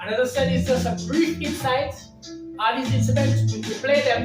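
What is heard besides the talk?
No distinct noise like a dog, phone or traffic.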